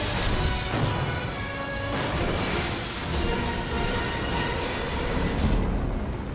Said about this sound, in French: On a slidé l'hélicoptère contre un métro